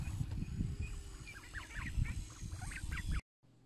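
A cluster of wild ducks quack and chatter in quick, overlapping calls nearby over a low background rumble, then the sound cuts off abruptly.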